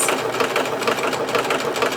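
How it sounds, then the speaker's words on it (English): A sewing machine runs in a fast, even stitching rhythm, close and moderately loud, with a rattling mechanical chatter and no talking. "sewing machine."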